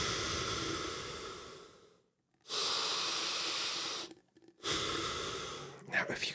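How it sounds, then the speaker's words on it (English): Heavy nasal breathing recorded close to the microphone: three long, rushing breaths separated by short silent pauses, loud and airy. "that was heavy nasal breathing"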